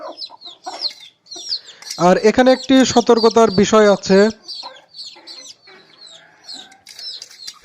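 Desi hens cluck and peck at broken eggshells, their soft clucks running through the clip while someone talks over them close by.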